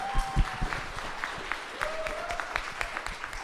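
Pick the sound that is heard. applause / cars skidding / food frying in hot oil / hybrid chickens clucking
applause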